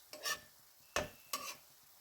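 Saag greens cooking in oil in a pan, three short bursts of stirring and sizzling with quiet gaps between them, close and moderately loud.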